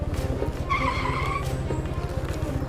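Car pulling up with tires skidding, a long scraping squeal lasting under a second over a steady rumbling engine and pulsing road noise nearby.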